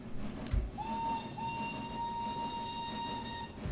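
Steam whistle of an LBSCR H2 Atlantic locomotive in a train-driving video game: one sustained, steady blast of about two and a half seconds over a low, quiet rumble of the running engine.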